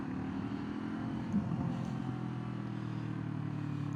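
Motorcycle engine humming steadily while riding, a low continuous drone with a slight change in pitch partway through as the gear shifts, no talking.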